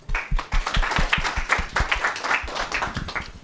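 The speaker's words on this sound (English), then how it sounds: "So let's give him a round of applause." Audience applause at a deep learning for digital pathology talk, scattered claps building into a steady round of clapping that holds at moderate loudness for a few seconds.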